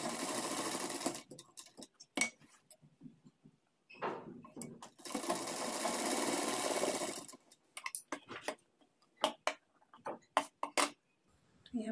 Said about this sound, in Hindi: उसके बाद इसके ऊपर से फिनिशिंग के साथ सिलाई लगा देंगे